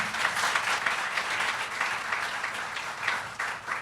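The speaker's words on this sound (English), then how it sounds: "Let's applaud the man again." Sustained applause from an audience at a formal public address launching an anti-drug-abuse day, a dense steady patter of many hands with small swells, filling the whole stretch without speech.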